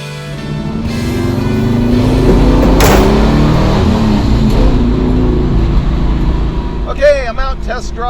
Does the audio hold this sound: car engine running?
yes